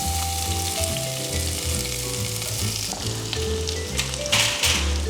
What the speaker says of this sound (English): Okay, so we're going to cook up our garlic.